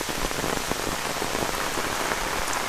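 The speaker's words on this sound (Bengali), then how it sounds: "এই যে দেখেন গরুটা বৃষ্টিতে ভিজতেছে" Steady rain pours down in a rural village, a dense, even hiss of drops striking the ground and surfaces throughout, close and constant with no pauses.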